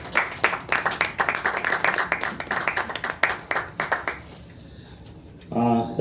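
An audience at a Hindi kavi sammelan claps to welcome a poet, a few seconds of brisk, dense applause that fades out into quiet room noise, with a voice briefly heard at the end.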